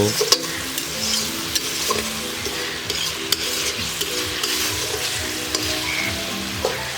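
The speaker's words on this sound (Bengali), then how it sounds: "এবারে ভালো মতো নাড়াচাড়া করে নিয়ে আরও কিছুক্ষণ মশলাটাকে কষিয়ে নেব" Spice paste for a tangy fish curry fries and is stirred in a pan, a steady sizzle with repeated scraping strokes of the spatula throughout, close and continuous.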